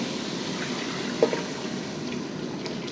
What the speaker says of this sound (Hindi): अब मैं इसमें तकरीबन ऐसे पानी डालूंगी कि 1 किलो चावलों का पानी कम डालूंगी